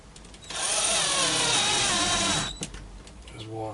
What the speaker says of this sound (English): I should pre-drill on this